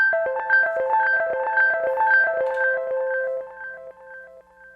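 A synth pattern plays on a Polyend Tracker: a clear, steady sequence of short pitched tonal notes in a repeating rhythm, fairly loud and alone with no talk, thinning out toward the end.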